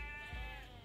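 A single short sheep bleat from the Age of Empires video game, clear and close with a wavering, nasal tone and no voices over it.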